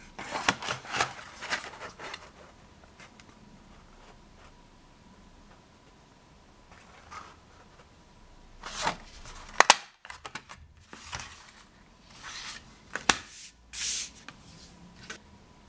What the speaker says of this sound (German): Ich habe mir deswegen schon mal hier die Mitte markiert und stanze jetzt den Halbkreis aus.